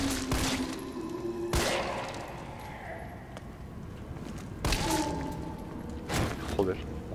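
Several loud, sharp gunshot blasts ring out at irregular intervals over a low background rumble and faint talk, gunfire in the game Resident Evil 3 Remake.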